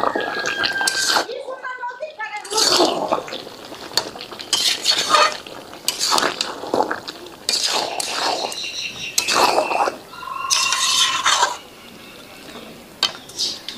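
Spoon scraping and stirring through desi chicken with turmeric, tomato and salt in a pan, a run of irregular clinks and scrapes close by, with short pauses between strokes.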